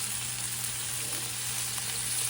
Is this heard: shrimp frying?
yes